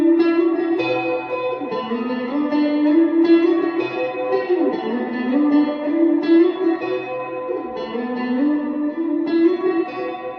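Electric guitar played through a Callisto chorus at low mix with a shimmer reverb, ringing chords and sustained notes washing into each other in a lush, echoing ambient tone, with no voices.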